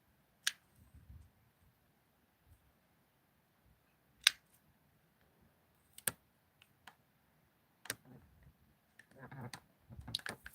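Garden scissors cutting back plants, with a handful of sharp, close snips spaced a second or two apart against quiet outdoor background, ending in some rustling of leaves.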